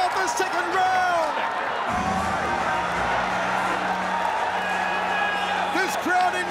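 Crowd roaring and cheering at a ONE Championship world title fight in Yangon, a steady, dense wall of noise from a packed arena that stays loud throughout, with a commentator talking over it.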